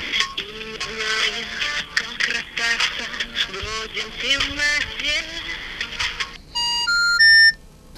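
A telephone rings while someone calls a company's round-the-clock number late in the evening, heard as a series of repeating tonal signals followed by a few steady beeping tones near the end, with no speech.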